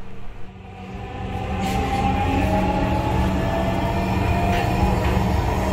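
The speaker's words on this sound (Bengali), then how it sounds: "আমরা ট্রেনে ওঠার প্রায় 1 মিনিটের ভিতরেই হচ্ছে আবারও যাত্রা শুরু করলো।" A Dhaka Metro Rail train pulls away from the station and its rumble builds within the first two seconds. It then holds as a loud, steady rolling drone with a faint whine, heard from inside the carriage.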